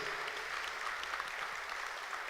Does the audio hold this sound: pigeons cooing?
no